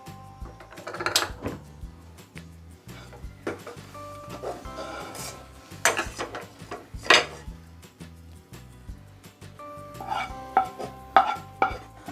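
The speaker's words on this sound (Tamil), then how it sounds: "இப்போ நம்ம ஸ்டவ் ஆஃப் பண்ணிவிட்டு நம்ம நெய் தடவின பிளேட்டில் மாற்றிடலாம்." Peanut burfi being scraped from a pan onto a ghee-greased plate, with spoon and metal clatters, scraping and clinks arriving in irregular bursts, close and moderately loud, with no talk.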